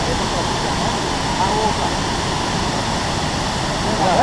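Waterfall at Cachoeira da Pancada Grande in Ituberá, Bahia, a steady broadband rushing roar of falling water that stays constant throughout, with people talking faintly over it.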